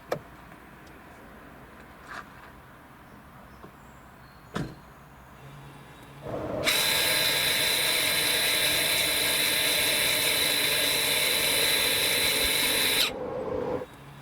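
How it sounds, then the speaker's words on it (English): A Lexus UX electric parking brake actuator motor on the rear wheels whirs steadily for about six seconds as it unwinds, loud and close, after a few faint clicks, then stops abruptly. "You will hear the motor working on the rear wheels, the parking brake actuator"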